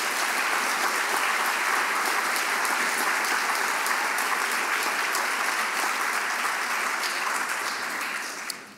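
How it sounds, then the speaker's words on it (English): Steady, dense applause from a large audience at a Breakthrough Prize symposium, continuous clapping that holds even and then tapers at the end. "Please give them a round of applause."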